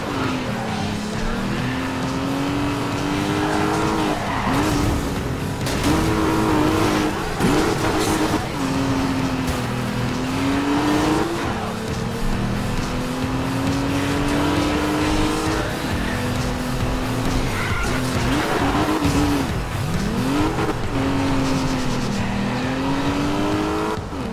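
Aston Martin Vanquish drifting in Need for Speed Rivals, an engine droning steadily with wavering pitch as the car slides, punctuated by tire squeal and skids.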